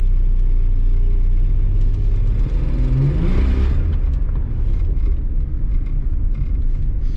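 A neglected Nissan Skyline R31 TI on its first drive in three years, with a low steady engine and road rumble from inside the cabin and a brief rising engine note partway through.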